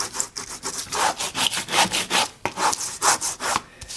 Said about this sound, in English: Turn this over, rub it down,